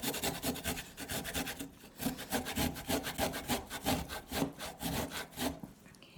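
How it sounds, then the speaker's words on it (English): Fresh ginger root being grated by hand, a steady rhythmic rasping with repeated back-and-forth strokes, close and fairly loud, with a short pause early on before the scraping resumes. "So then you just grate it down."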